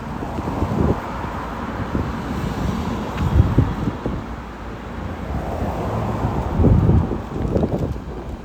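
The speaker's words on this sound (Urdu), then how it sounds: "زبردست ٹھنڈی ٹھنڈی ہوا چل رہی ہے۔" Cool wind blowing across the city of Taif in Saudi Arabia, a steady broadband rush with gusts swelling around three and seven seconds, low rumbles buffeting the microphone, no voices.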